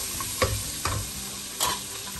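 Vegetables for a winter soup sautéing in a pan, a steady close sizzle broken by three distinct scraping stirs of a spatula, with no voices.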